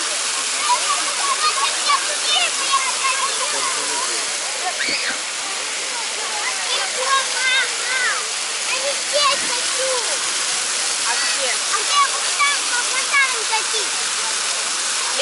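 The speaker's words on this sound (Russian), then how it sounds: "Дети все плескаются в фонтане" Fountain water splashes and rushes continuously, with children playing and splashing in it and voices faintly mixed into the steady spray.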